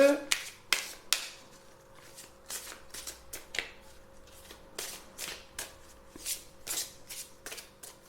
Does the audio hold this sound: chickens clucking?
no